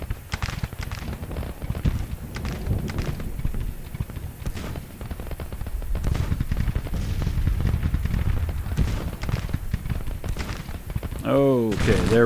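Artillery booms and massed gunfire roll steadily through a Civil War battle in the Grand Tactician strategy game, a dense, continuous din of distant cannon and rifle fire, with a brief tonal game cue near the end.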